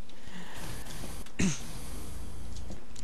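A person clears their throat once during a Team Fortress 2 play session, a short, sharp rasping burst midway over steady background game noise.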